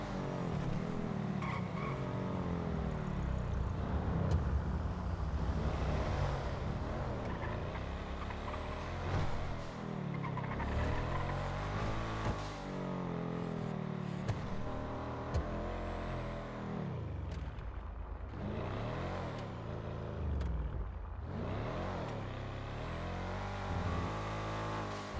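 A vehicle rolling along slowly in GTA roleplay, a continuous engine rumble with shifting tones, tire squeals and brake hiss over about twenty-five seconds, fairly loud and unbroken.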